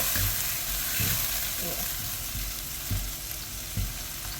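Steady frying sizzle of chili paste for nasi lemak in a pan, with occasional soft stirring knocks, close up, with no talking.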